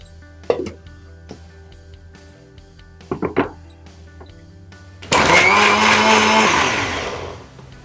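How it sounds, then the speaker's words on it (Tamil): An electric blender grinds lychee with cold milk, starting with a few short thumps and brief bursts, then roaring into a loud continuous whir that slowly winds down near the end. "முதல்ல வந்து கொஞ்சம் பாலை விட்டு இதை அரைச்சிக்கணும்"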